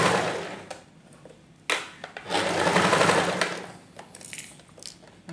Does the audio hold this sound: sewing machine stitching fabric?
yes